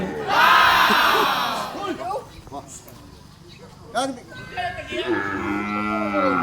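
A carabao (water buffalo) at a livestock market lets out a long, loud moo, followed by further lowing calls, over a busy backdrop of crowd chatter and people talking nearby.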